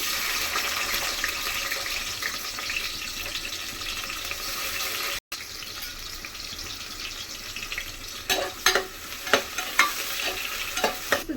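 Sliced onion frying in hot oil inside a pressure cooker gives a steady, close sizzling hiss that cuts out for a moment midway, then carries on under a series of sharp stirring scrapes and clicks near the end, with no talking.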